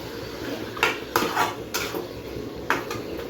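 Garam masala and spices are stirred in a frying pan, a metal utensil scraping and knocking against the pan in several irregular strokes over a steady background hiss.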